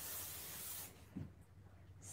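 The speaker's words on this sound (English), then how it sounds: "So what I do is I flip my hair upside down, and I just spray hairspray all in it." John Frieda Luxurious Volume hairspray blown from an aerosol can into hair flipped upside down, a loud steady hiss lasting most of a second close up, then a soft fainter spurt under a low room hum.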